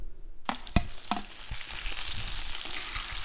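Tomatoes tipped into a pan of eggplant softening in hot oil, with a few clattering knocks at the start, then a steady, close sizzle and frying hiss continuing throughout.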